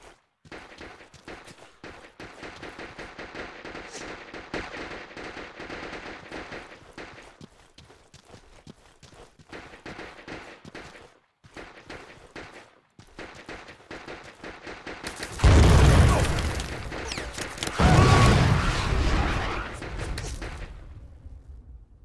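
Video game gunfire crackles in rapid bursts and scattered shots at a distance through the first part, then much louder, closer volleys of shooting break out near the end.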